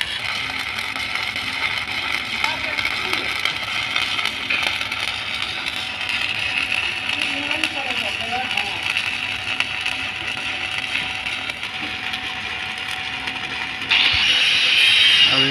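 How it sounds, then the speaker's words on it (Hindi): A steady, continuous crackling hiss from arc welding the final capping layer of a multi-layer pipe joint with a stick rod, loud and unbroken throughout, with no voice. "अभी वेल्डिंग हो रहा है 1 लेयर"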